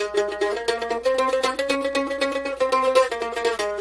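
A plucked string instrument plays a major (Ionian) tetrachord, a short stepwise run up and back down four notes, clear and even, with no voices.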